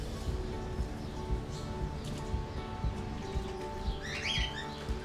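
Birds in a zoo aviary give scattered high chirps and tweets, most noticeable near the end, over a low steady background hum with faint rustling; no one speaks.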